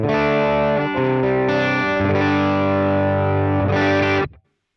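Electric guitar through a Fractal FM3 Deluxe Tweed amp model with the legacy cab plays a short gritty overdriven phrase, loud and close, then stops abruptly.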